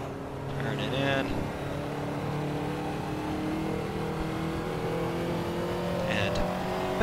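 A Ferrari 288 GTO engine in the racing game Assetto Corsa hums steadily and builds revs, a sustained droning tone with slight rises, while someone talks over it.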